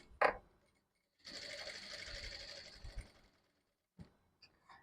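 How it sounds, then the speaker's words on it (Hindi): A sewing machine stitches along the edge of a coat collar in one steady two-second run of close mechanical whirring, bracketed by faint clicks and handling noises in a quiet room. "यहाँ से लेकर के इस तरीके से सिलाई करेंगे"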